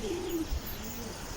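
A single soft, low pigeon coo rises briefly over a faint, steady outdoor hum.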